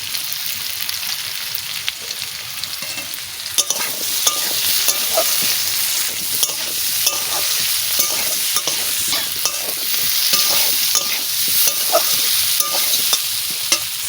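Soybean chunks with coriander and black pepper powder stirred and fried in a pan with papaya: a continuous loud sizzle with rapid, rhythmic spatula scrapes and taps throughout, up close and without talk.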